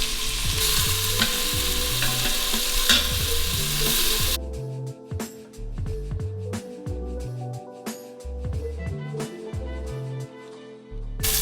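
Beef browning on sauté mode in an Instant Pot gives a steady, close sizzle, with fainter rhythmic clinks and a spoon stirring the meat running under it.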